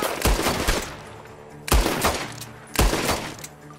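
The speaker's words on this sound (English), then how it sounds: "The gunshots are coming from that barn!" Gunfire rings out from a barn in Red Dead Redemption 2, three sharp clusters of rapid shots spaced about a second apart, loud and echoing, each trailing off before the next.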